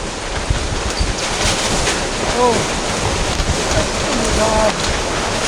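Strong typhoon wind roars continuously with rushing, splashing water, loud and close on the microphone, while a person briefly exclaims over the noise.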